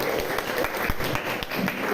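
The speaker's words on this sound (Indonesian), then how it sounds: "Ini sebelum jadi Bapak minta tepuk tangan dulu yang meriah." Classroom audience applauding, a patter of claps at moderate distance, fairly quiet and continuous for a couple of seconds with faint voices mixed in.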